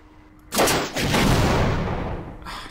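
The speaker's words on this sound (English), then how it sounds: "this rocket launcher is just terrible" A rocket launcher fires in the Half-Life video game, a loud sudden blast at about half a second that rolls into a long roaring rumble and fades, with a faint second burst near the end.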